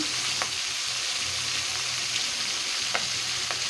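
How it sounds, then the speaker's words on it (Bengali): Pieces of pangas fish frying in hot oil, a steady close sizzle with occasional soft stirring or turning sounds, no voices. "এভাবে অপরপিঠ ভেজে নেব। মাছ আমি আগে থেকে মেখে রেখেছিলাম বেশ কিছুক্ষণ। এভাবে আমি সবগুলি মাছ ভেজে নেব।"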